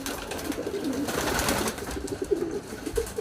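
Racing pigeons kept in a loft coo in soft, repeated low murmurs, close by, continuing steadily over a rustling, busy background with no talk.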